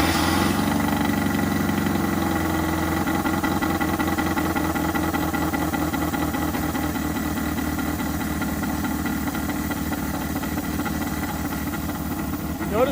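A 1983 Mazda B2000 pickup with a carbureted engine runs close by with a low, uneven chugging idle, pulsing steadily throughout with no one speaking over it.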